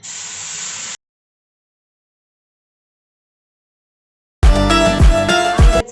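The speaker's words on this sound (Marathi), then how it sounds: "एक वाटी गरम दूध आहे ते आपण याच्यात वतून घेऊयात" Hot milk poured over semolina roasted to a pink hue, for mango poli, gives about a second of bright, steady hissing sizzle. Silence follows, then loud music.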